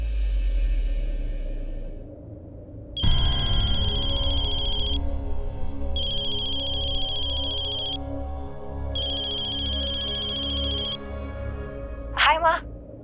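A phone ringtone rings out in three repeated electronic bursts with short pauses between, steady and clear over a low background hum.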